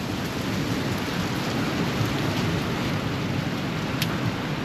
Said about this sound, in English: sounds like we're getting a little more hail here